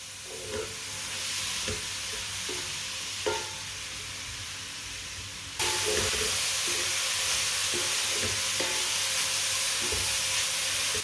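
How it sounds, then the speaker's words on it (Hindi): Carrots cook in a pan over a medium flame with steady frying sizzle, while a spoon stirs and scrapes at irregular intervals; the sizzle grows noticeably louder and brighter partway through, and no one talks. "गाजरों को 4-5 मिनट के लिए पका लेंगे।"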